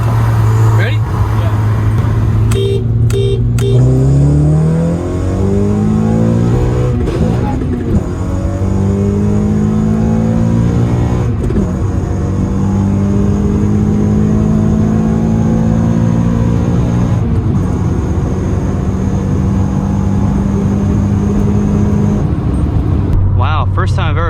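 Honda Civic Si, ninth generation, pulling hard through the gears with a missed shift into third: loud, close engine drone with rising pitch sweeps, a stumble mid-run, then climbing again over steady road roar.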